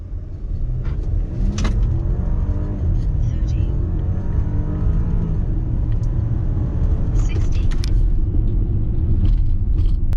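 An ECU-tuned Audi 55 TFSI SUV engine rumbles loudly from inside the cabin, revving and climbing in pitch as it accelerates, with a steady low drone throughout.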